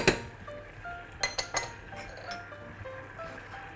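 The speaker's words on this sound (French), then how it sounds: "On remue nos oignons." Onions are stirred in a hot pan, with a spoon scraping and clinking against the metal in a few quick knocks over a steady low hiss, close and fairly quiet.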